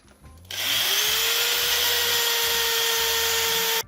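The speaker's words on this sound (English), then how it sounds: "he's got to take it down and stepping up the grit of the sandpaper" A cherry burl shift knob spins on a wood lathe with sandpaper held against it, a steady loud whirring rush that starts abruptly, holds evenly, then cuts off at the end, with no talk.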